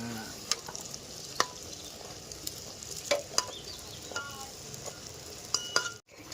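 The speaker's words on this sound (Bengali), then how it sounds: "ও ডাল পুরিটা কি লাল লাল করে ভাজা হয়েছে একদম" Dal puri deep-frying in oil gives a steady, even sizzle, with occasional metallic clinks from a utensil against the pan and no voices.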